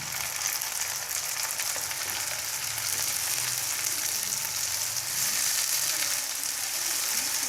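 Three chopped medium tomatoes sauté in a pan for tinda sabzi masala bhujia, giving a continuous, even sizzle and crackle with no talking.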